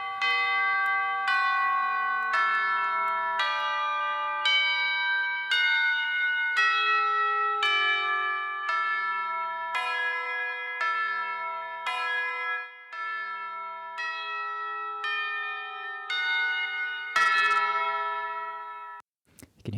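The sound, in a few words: bells in a music mix, near clipping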